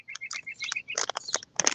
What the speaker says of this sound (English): There's two birds out here, and they keep chasing each other.